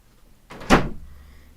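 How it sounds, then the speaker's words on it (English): A door is kicked shut with a single close, solid thud and a brief rattle fading into room quiet. "can you kick that door closed"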